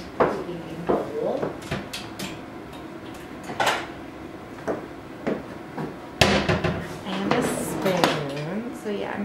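In a home kitchen, a bowl is taken out for granola cereal with a banana. Irregular ceramic knocks and clatters ring out close by, with a couple of louder clanks near the end.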